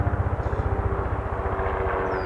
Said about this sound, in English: now there's really a helicopter. That's a big helicopter.